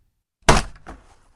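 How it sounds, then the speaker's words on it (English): A loud, short thud of wood striking armor in a fantasy fight, a single heavy impact followed by a softer rebound knock and a quick decay, with no voices. "There was a loud thud as wood and armor collided."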